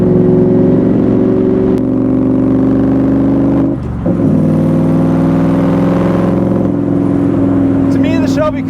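A Superformance Shelby Cobra with a V8 engine pulls hard, its loud, steady mid-range drone climbing in pitch through several gear changes, with one brief dip near the middle before the roar builds again.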